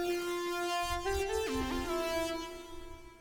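A sustained synthesizer tone with rich buzzy harmonics bends and wobbles in pitch, then settles and fades, played alone with no voices.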